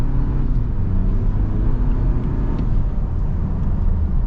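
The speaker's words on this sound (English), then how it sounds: "We are about to see how this accelerates with these 35s." 2025 Toyota 4Runner TRD Off-Road on 35-inch tires accelerating, heard from inside as a loud, steady low engine and road rumble with a rising drone and no talking.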